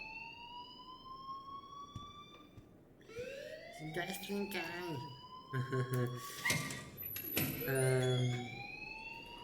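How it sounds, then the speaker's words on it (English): In the video game Life is Strange, an alarm rings with a steady rising electronic wail, fairly loud and continuous, while voices talk over it. "please turn off that alarm since that's your job."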